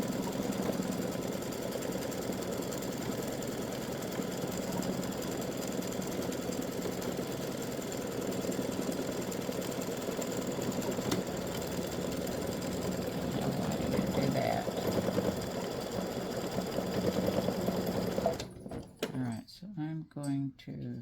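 Embroidery machine stitching free-standing lace bat earrings, a continuous fast mechanical chatter with rattling, steady and moderately loud for most of the clip before stopping, leaving brief quiet handling sounds at the end.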